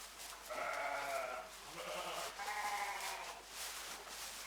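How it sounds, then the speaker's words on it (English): Sheep bleating on a farm where ewes and lambs are kept indoors much of the year, three loud wavering bleats in a row, close by, over a faint steady background hum. "the sheep are about to move outside for the summer"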